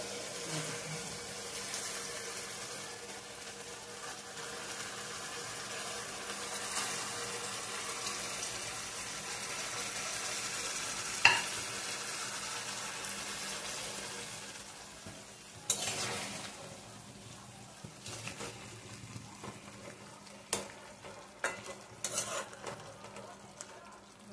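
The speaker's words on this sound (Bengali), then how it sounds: "ভালো করে কষিয়ে নিয়ে তারপর মাছ ভেজে দিতে হবে।" Salted spice masala for rui fish curry is stir-fried with a soft, continuous sizzle and scraping spatula strokes, growing sparser toward the end with sharp clicks of utensil against pan.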